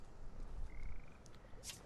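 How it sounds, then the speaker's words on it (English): Frogs croak in the video game Zombi, a low rough chorus steady throughout, with a brief thin whistle and a faint hiss near the end; no one speaks. "I hear frogs."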